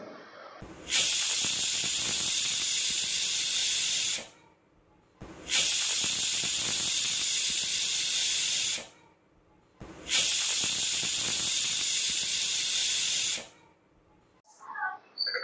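A pressure cooker boiling bitter gourd lets off three loud, sustained whistle hisses of steam, each lasting several seconds and separated by short quiet gaps, with a faint clink at the very end.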